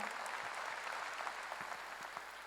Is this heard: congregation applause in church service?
yes